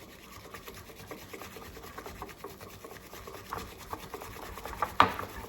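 Matcha whisked back and forth with milk in a bowl, a soft, steady brushing scrape that grows slightly louder toward the end, close by, with no talk.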